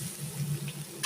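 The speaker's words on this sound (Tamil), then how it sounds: "கட் பண்ண காயில் கொஞ்சம் உப்பு போட்டு கொஞ்சம் தண்ணி ஊற்றி வேக வச்சுடுவோம்." Water poured onto chopped, salted bottle gourd in a cooking pot, a short, soft splashing pour lasting about a second, close and quiet with no talking.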